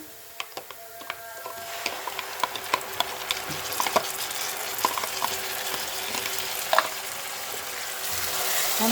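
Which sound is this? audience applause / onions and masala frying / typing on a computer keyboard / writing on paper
onions and masala frying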